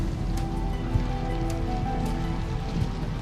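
Steady rain patters on a surface with a dense, even hiss and scattered louder drops, alone without voices.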